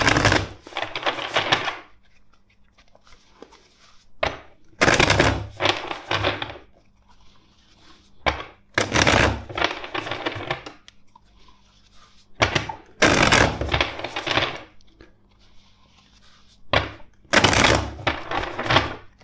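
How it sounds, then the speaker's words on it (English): A deck of tarot cards being shuffled four times, brisk riffling bursts of papery flutter separated by quiet pauses, close and loud with no talk. "first let's shuffle the deck four times"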